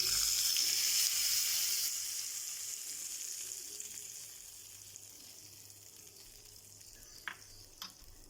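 Hot tempering poured onto chutney, a loud hissing sizzle at first that fades into a quieter crackle, followed by a few sharp clinks of stirring.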